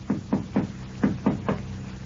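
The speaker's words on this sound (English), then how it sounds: "She turns quickly as she hears her husband's characteristic knock at the door." Six firm knocks on a wooden door in a quick, slightly irregular pattern, close and clear with no talking, in an old-time radio drama.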